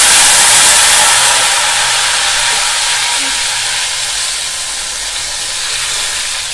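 A loud, steady sizzling hiss of tamarind water hitting hot oil with popped mustard seeds, fading slightly as it continues without pause.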